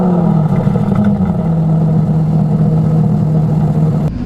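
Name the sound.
Aston Martin DB11 engine starting up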